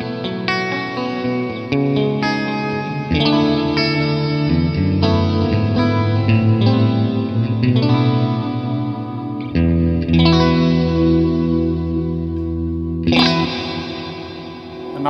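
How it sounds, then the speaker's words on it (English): Electric guitar chords ring out through a Hall of Fame reverb with a lush, shimmering modulated reverb tail that swirls and wavers, each strum washing into the next. "Now I can really hear that kind of modulated reverb tail"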